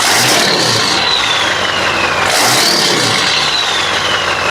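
A diesel truck on an 80 horsepower performance tune, fitted with 180/30 injectors, revs hard. Its loud, continuous roar swells twice, near and with no talk.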